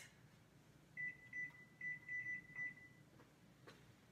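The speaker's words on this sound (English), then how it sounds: "set my timer for 10 minutes." A kitchen timer set for ten minutes while making cinnamon rolls beeps about six times in short, quiet, evenly pitched pulses over faint room noise.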